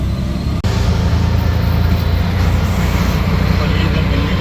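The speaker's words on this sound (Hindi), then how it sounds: "और ये इधर दिल्ली का ट्रैफिक।" Continuous, loud road traffic rumble from inside a vehicle driving on a busy Delhi road, wrong side, with low engine drone throughout and a brief dropout near the start.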